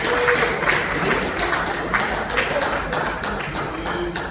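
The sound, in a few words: church congregation applauding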